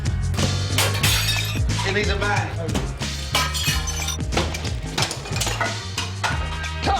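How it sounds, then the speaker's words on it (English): Porcelain urinals are smashed out during demolition of a community centre, with loud repeated crashes and shattering over a steady low drone, and someone speaks briefly. "there he is, smashing urinals out"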